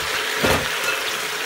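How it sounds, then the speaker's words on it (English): Vegetable stock poured over Brussels sprouts inside a GeekChef electric pressure cooker, a short close splash of liquid swelling briefly at mid-point over a soft continuous wash. "I'm going to pour over my Brussels sprouts here"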